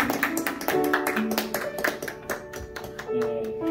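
A church congregation claps in dense, quick applause that runs steadily throughout, filling the hall with many overlapping hand strikes.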